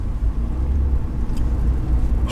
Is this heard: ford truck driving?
yes